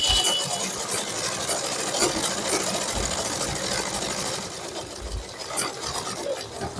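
A sewing machine stitches a shirt in a continuous, steady mechanical whir with rapid needle clatter, fairly close and alone, easing slightly near the end.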